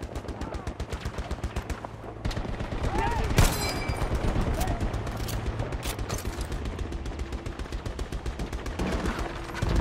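Rapid automatic gunfire in a Battlefield 2042 match rattles in fast, rhythmic bursts, close and loud, alongside scattered single shots, with someone speaking over the shooting.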